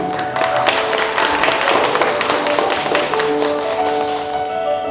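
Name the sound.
audience applause at library ceremony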